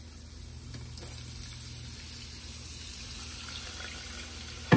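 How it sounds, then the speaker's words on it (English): Two cups of water pour into a pan of flour and butter, giving a soft, steady sizzling hiss at low level, with a small clink near the start and a louder knock at the very end. "what we're gonna do now is we're gonna put in 2 cups of water"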